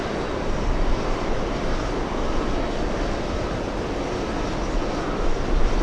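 An Air France airliner flies near JFK airport, producing a steady, broadband jet engine roar that holds at an even level throughout, without breaks or distinct events.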